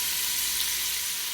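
Vegetables sautéing in a pan, a short stretch of even, hissing sizzle held at a constant level close by, with no voices over it.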